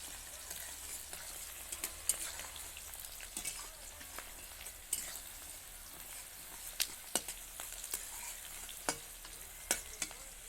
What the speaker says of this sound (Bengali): পেঁয়াজগুলো একটু লাল লাল ভাজা হবে